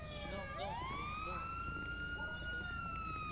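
An ambulance siren wails with a smooth rising sweep that then holds a steady high tone, heard fairly faint as if at some distance.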